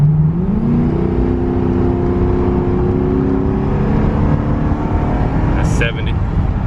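A 2006 Crown Victoria P71 accelerating uphill from about 50 to 70 mph, heard from inside as a loud engine drone that climbs steadily in pitch, over road roar, with a brief bump near the end.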